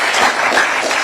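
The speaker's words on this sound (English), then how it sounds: "that's worth a clap" Brief burst of audience clapping during a Massachusetts affordable housing announcement, a dense close patter lasting about a second.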